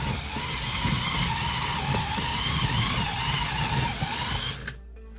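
A small electric motor drives a remote-controlled, 2002-style Lego Bionicle Makuta build, whirring continuously at a steady pitch before cutting out just before the end.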